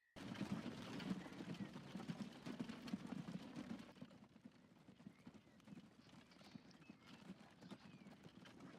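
Horse-drawn wagon in the Transport Fever American campaign, hooves clip-clopping steadily and close at first, then fading quieter after a few seconds while the rhythmic clopping continues.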